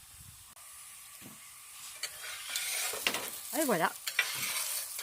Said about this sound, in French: on va enlever nos pommes de terre et on va faire cuire nos brochettes